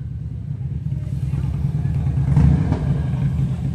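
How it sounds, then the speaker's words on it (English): A motorcycle passes nearby on a street, a low engine rumble that swells to a peak mid-clip and then eases off, loud and steady without speech. "I always like to hear motorcycles coming through."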